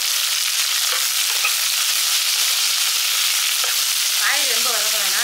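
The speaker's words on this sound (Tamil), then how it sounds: "காய் ரொம்ப வதங்க வேணாம், இந்த அளவுக்கு வதங்கினா போதும்." Vegetables, mint and peas sautéing in a pan for a coconut-milk rice lunch dish give a steady, loud frying sizzle throughout, with a few scraping stirs and a brief whistling tone near the end.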